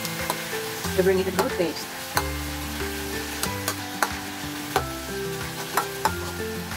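Fried rice and tomato stir-fried in a pan with steady sizzling and repeated scraping stir strokes, close and moderately loud, while a voice speaks briefly over the cooking.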